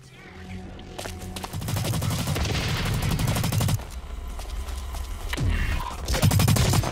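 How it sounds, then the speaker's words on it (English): Rapid automatic gunfire in the online shooter Blacklight Retribution rattles in long dense bursts, loud and close, with a brief lull before firing resumes. "Someone's shooting at me."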